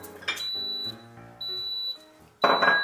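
A kitchen timer goes off during cooking, giving three bursts of bright, steady electronic beeping, each held for about half a second. Clatter and rustle come between the beeps, and a louder clatter follows near the end.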